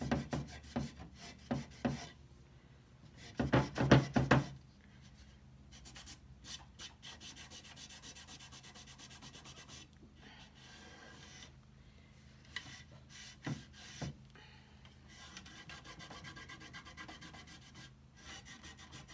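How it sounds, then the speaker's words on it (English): Sandpaper rubs over painted wood on a buffet, distressing the drawer edges and the areas around the handles. Steady, close scratchy strokes run continuously, with a few heavier bursts near the start and no talking. "I'm gonna distress a little bit around where the handles are gonna be, because that's a natural place"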